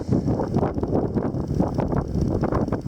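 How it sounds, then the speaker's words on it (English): Gusty wind buffets the microphone in low, rumbling bursts, rising and falling continuously with no voices. "Quite windy."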